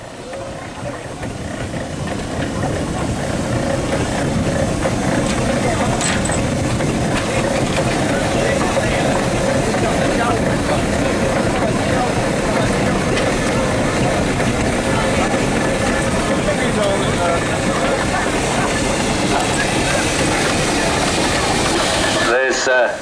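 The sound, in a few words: steam traction engine running as it leaves the arena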